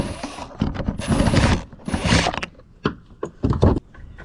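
Close, loud metallic ratcheting and clicking from a tool working out a screw beneath the trunk handle of an Audi A4, in short irregular bursts.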